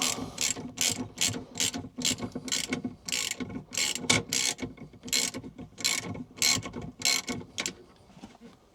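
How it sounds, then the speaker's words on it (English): Handbrake lever on a VW T5 van being pulled up and tightened, a rapid series of loud close ratcheting clicks in repeated bursts over about eight seconds. "So what I thought I would do first is just adjust up this handbrake, just to make sure that that isn't the issue."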